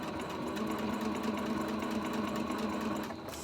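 A sewing machine stitches denim jeans being cut down into shorts, a rapid, steady mechanical chatter heard up close and alone for a few seconds before easing slightly at the end.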